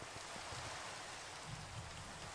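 Steady, dense rainfall in Minecraft hisses evenly throughout, quiet and continuous with no other sounds.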